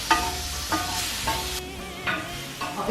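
Prawns fry and get stirred in a hot pan, a steady sizzle broken by a scrape of the utensil about every half second, close and moderately loud with no talking.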